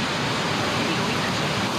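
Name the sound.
waterfall in the Tongass National Forest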